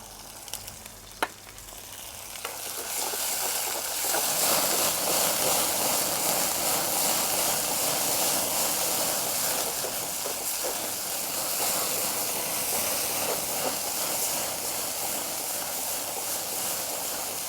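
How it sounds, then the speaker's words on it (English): Tomato paste or passata hits a hot thin pressed-steel pan for a curry: a brief quiet lead-in, then a loud, steady, close hissing sizzle that holds evenly for many seconds with no voices. "now we're going to add in the tomato paste or passata"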